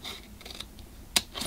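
Scissors snipping through paper thick with glue during a layered journaling session, a faint, quiet cutting sound with one sharp close snip near the end.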